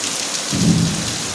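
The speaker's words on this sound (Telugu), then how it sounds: "ఉరుముతుంది, మెరుస్తుంది." Thunder rumbles low through a steady downpour, the first heavy monsoon rain of the season, with a brief swelling roll in the middle of the short stretch and constant rain hiss around it.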